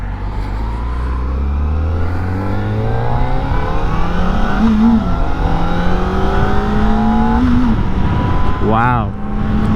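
A 2025 Kawasaki Ninja ZX-4RR 400cc motorcycle accelerates onto the freeway, its engine note climbing steadily through the gears under constant loud wind rush, close and continuous, with a brief rising whine near the end.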